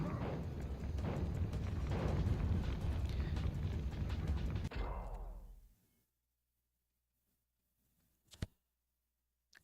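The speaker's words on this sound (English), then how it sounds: "fireworks." Fireworks explode outside in a dense, continuous rumble of crackling bursts for about five seconds, then die away into silence broken by one faint later pop.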